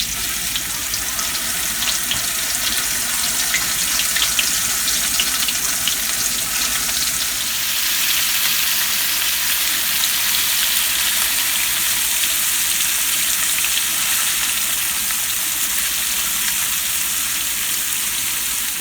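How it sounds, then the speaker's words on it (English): Fish fillets coated in protein powder frying in hot olive oil in a pan, giving a loud, steady sizzle and crackle that runs unbroken throughout with no talking. "Continue to fry the fish fillets until they are a golden brown."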